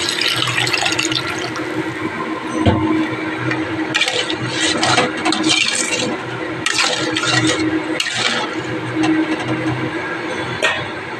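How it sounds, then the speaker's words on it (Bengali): A little water is poured into a pan of dried fish curry. The pour makes a loud, continuous rushing splash that lasts the whole stretch with small surges, and no voices are heard. "সামান্য একটু জল দেব।"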